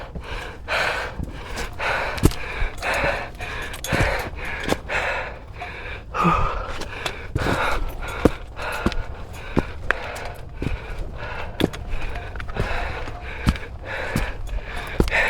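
Heavy, labored breathing from a hiker climbing Mount Salak, close and loud, with repeated gasps and snorting breaths in an uneven rhythm, plus rustling footsteps on the trail.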